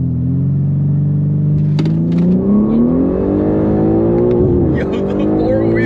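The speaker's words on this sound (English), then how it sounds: "Yo, the 4-wheel spin is crazy. I don't even think that was launch control" A built all-wheel-drive BMW G80 M3 launches hard with all four wheels spinning, its engine revving up in a loud, steady rising drone with shifting pitch, close and continuous throughout.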